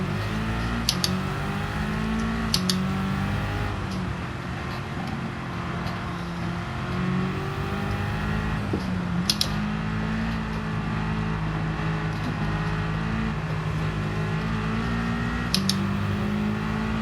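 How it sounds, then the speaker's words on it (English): An AMG race car in Gran Turismo 7 engine-brakes on a wet track, a steady droning engine note with shifting tones and faint clicks running throughout, loud and continuous without speech. "Engine braking."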